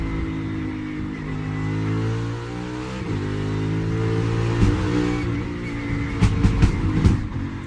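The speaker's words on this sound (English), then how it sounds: "Car's running all over the curb." Onboard sound of a NASCAR Cup car at speed at Autodromo Hermanos Rodriguez in Mexico City, engine droning steadily, then sharp thumps and bangs as it runs over the curbs and bottoms out, loud and close.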